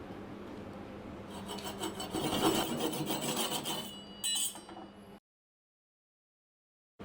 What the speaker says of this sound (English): Shave off any excess wood.